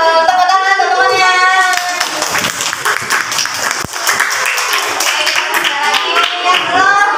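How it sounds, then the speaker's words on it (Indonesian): Schoolchildren in an elementary classroom clap their hands together for a classmate, a loud, dense burst of applause mixed with children's voices that runs the whole stretch. "tepuk tangan teman-temannya"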